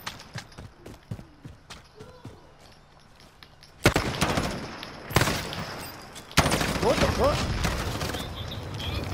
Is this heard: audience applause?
no